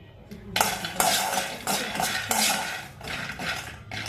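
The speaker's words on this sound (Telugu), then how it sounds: "ఎప్పుడైనా పల్లీలు లో ఫ్లేమ్లో పెట్టి వేయించుకోవాలి." Half a cup of peanuts roasting over low flame in a pan, stirred with repeated scraping and clinking of a utensil against the metal in uneven bursts, close and fairly loud.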